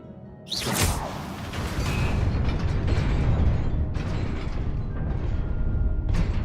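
A fiery Incendio spell is cast in Hogwarts Legacy: a sudden whooshing burst, then a sustained crackling roar of flames with small pops layered over it.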